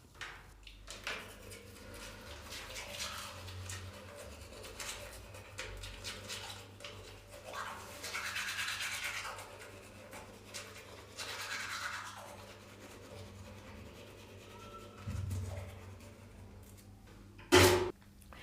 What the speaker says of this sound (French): pendant que moi, je me brosse les dents